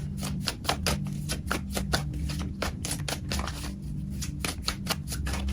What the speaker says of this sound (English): All right, Charlie, I'm gonna shuffle and just pull 4 more cards here.